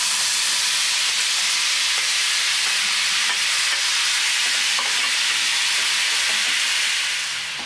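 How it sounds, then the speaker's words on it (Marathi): Chopped tomatoes for a tomato chutney sizzle and hiss loudly in a hot pan, a dense continuous frying sound with occasional soft scrapes of stirring, close up and alone. "आता आपण यात टोमॅटो टाकून देऊया।"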